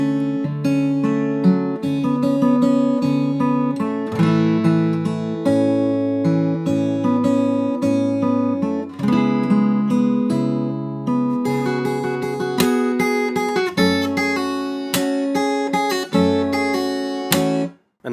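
Fingerstyle acoustic guitar plays the pre-chorus of a song in full, with a steady picked bass line under melody notes and sustained chords ringing close and clear for about eighteen seconds, ending in a brief stop.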